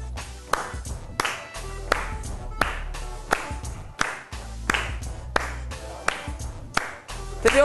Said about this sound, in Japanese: まず手拍子で自分で裏を取れるようにします。